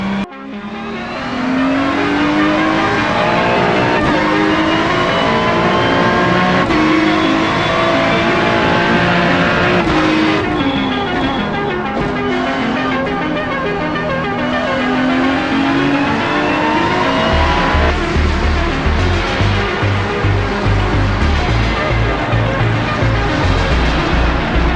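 GT3 race cars roar through a race in the iRacing sim, one loud close engine rising and falling through gear changes, with other cars' engines buzzing nearby and a harsher growl toward the end.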